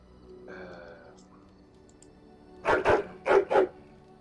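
Dog barks in Dragon Age: Origins, two quick pairs of loud, close barks arriving near the end after a stretch of quiet game ambience.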